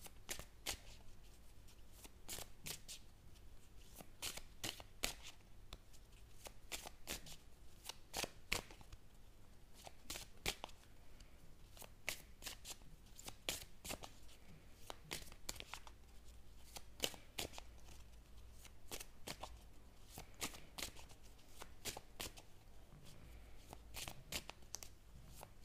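Tarot or oracle cards are shuffled by hand in a quiet room, a long run of crisp, rapid riffling clicks and flutters, close and fairly soft, with no talking.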